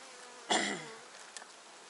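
Honeybees at an open hive during an autumn inspection after cold weather give a brief buzzing burst that fades quickly, with a faint second buzz shortly after, near and alone with no talk.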